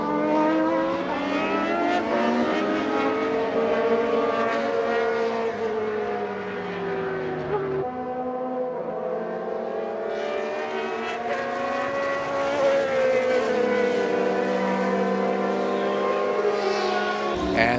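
Vintage race cars, including a Tyrrell, race in SVRA Group 9 at Indianapolis, their engines howling past in rising and falling sweeps, one car fading before another screams through, loud and continuous.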